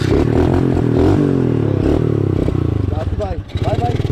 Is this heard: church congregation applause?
no